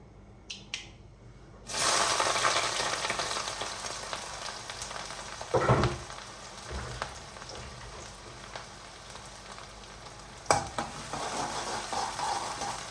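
Steady sizzling in hot oil after mustard seeds pop, with a loud hiss as small onions and green chillies drop into the pan and a few stirring scrapes.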